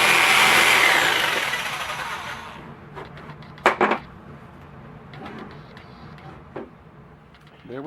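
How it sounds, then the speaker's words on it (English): A handheld jigsaw cuts a piece freehand while a mold for casting whitetail deer antlers is made, giving a loud, close, steady buzzing rasp for about two seconds that fades, followed by scattered clicks and knocks. "I'll be cutting it by hand with a jigsaw."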